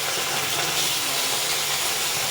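Washed prawns dropped into a hot pan with garlic and chili, a loud broad hissing sizzle that fills the whole moment, steady and close without any voices.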